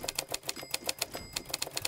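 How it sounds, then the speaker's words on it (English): Rapid, regular typewriter keystrokes from the game EDEN, a steady stream of crisp, loud clacks close up with no other sound. "I can't delete because it's a typewriter."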